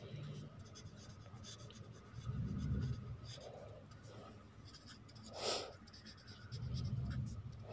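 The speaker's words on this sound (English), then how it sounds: "start writing" Pen writing by hand on paper during a math lesson, soft scratchy strokes in short bursts, faint and close, with a few breaths and small handling noises between strokes.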